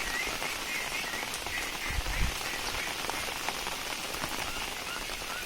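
Heavy rain pours on a rainy morning, a dense, steady hiss of drops drumming on surfaces throughout, with faint frog croaks and a couple of louder nearby splashes mixed in.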